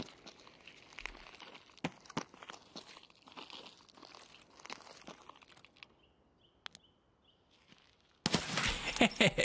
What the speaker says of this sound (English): That's me shooting at him.